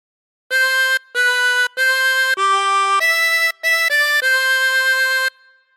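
A 16-hole tremolo harmonica plays the opening phrase of God Defend New Zealand as a run of about eight sustained, reedy notes with a shimmering tremolo. It is played solo, loud and close, with short breaths between notes.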